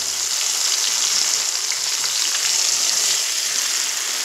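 Ground spice paste sizzling and frying in hot oil for a rohu fish curry, a steady bright crackle and hiss that holds close and even throughout with no voices.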